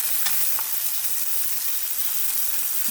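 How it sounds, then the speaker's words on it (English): Roast meat searing in butter in a hot pan gives a steady, close, even sizzle and crackle throughout, with no voices. "So what this searing does is it helps to lock in some of that juice, and it also gives it such a beautiful color."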